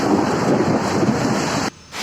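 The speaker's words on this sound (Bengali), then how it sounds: "কি ভয়াবহ ঘূর্ণিঝড় প্রচন্ড প্রচণ্ড বাতাস আর বৃষ্টি আর সাথে বিদ্যুৎ চমকাইতেছে" Heavy rain roars steadily with gusting wind, hail and a thundery rumble during a cyclone with lightning, briefly dropping away near the end before resuming.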